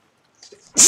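A short sneeze bursts out loudly at the end, preceded by a faint intake of breath, heard alone without speech.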